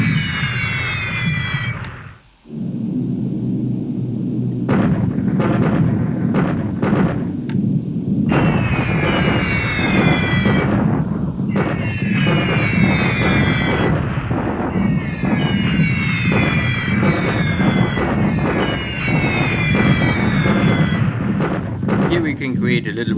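Airstrikes pounding ground forces in the naval war game War in the Pacific: Admiral's Edition, a dense, continuous roll of booming blasts and deep rumble, loud throughout after a brief dip near the start.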